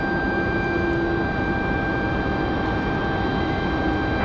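A Gulfstream jet on its takeoff roll from runway 23 left at Raleigh-Durham airport, a loud, unbroken engine roar with a steady high whine laid over it, constant for several seconds with no voices.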